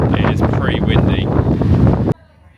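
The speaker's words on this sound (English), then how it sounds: "It is pretty windy." Wind buffets the microphone beside a river in Kerry in the off season, loud and rumbling before cutting off abruptly, with a voice speaking through it.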